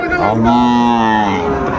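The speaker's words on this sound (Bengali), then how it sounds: "ষাঁড় বাচ্চা, পাকড়া ষাঁড় বাচ্চা, বেশ সুন্দর বাচ্চাগুলো" A young bull calf at a cattle market lets out one loud, sustained moo lasting over a second, close and clear with a rich tonal quality.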